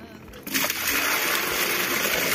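Water drains from a basin after the plug is pulled at the equator site near Quito, Ecuador. A steady, close rushing gurgle starts about half a second in and carries on loudly to the end.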